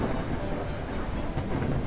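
Heavy rain and a storm in the Ranch Simulator game roar as a dense, continuous wash of rumbling noise with low thunder-like weight, loud and unbroken across the short stretch.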